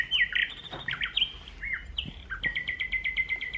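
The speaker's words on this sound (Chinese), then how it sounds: "Can you hear the nightingale's beautiful sound？" A nightingale's song from a children's sound-effect book: bright, varied whistles and trills, ending in a fast run of repeated chirps, clear and close with no talk.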